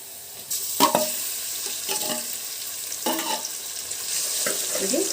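Grated raw mango frying in oil in a pan for Telugu mamidikaya pachadi, stirred with a spatula in several scraping strokes over a steady close sizzle, with no talking.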